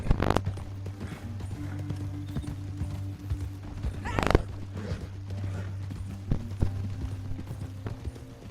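Horse hooves clip-clop in the video game Red Dead Redemption 2, a steady run of close footfalls over a low humming background, with one louder knock midway.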